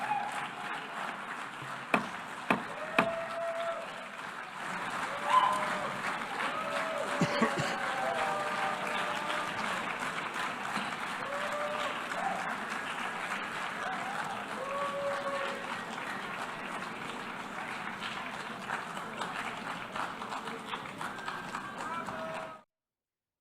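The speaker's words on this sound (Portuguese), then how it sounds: "Apenas as delegações de Israel e Estados Unidos celebram esse momento, batem palmas ali" Delegations applaud in a large assembly hall, a steady spread of clapping sustained for about twenty seconds with a murmur of voices beneath, ending abruptly.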